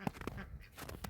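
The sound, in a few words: ducks on a farm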